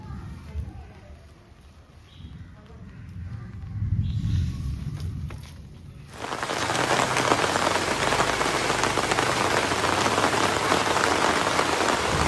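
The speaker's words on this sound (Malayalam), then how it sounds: "മഴയത്ത് വരുന്നു" Rain drums on a surface, light and patchy at first with some indoor sounds and voices, then swelling abruptly into a loud, steady downpour that fills the rest of the clip.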